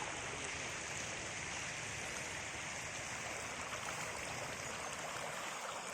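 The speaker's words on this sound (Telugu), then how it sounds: "ఇది మా ఊరు చెరువు, అలుగు పడుతుంది" Water pours over the weir of a village tank at Settivaripalle, fed from Brahmasagar, as a steady, dense rushing flow, continuous and even, moderately near, with no voices.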